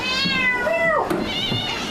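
A cat gives a clear, close meow with a rising and falling pitch, followed by a shorter second mew, heard alone against quiet background noise.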